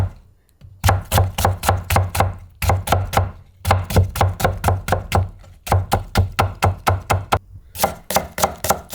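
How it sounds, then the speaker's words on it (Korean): Rapid bursts of a knife chopping vegetables into thin julienne strips on a cutting board, steady rhythmic taps in runs of several seconds separated by short pauses, close and crisp, while preparing japchae with fish cake. "네, 채 썰기 하세요"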